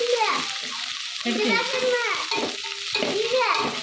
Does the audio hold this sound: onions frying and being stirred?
yes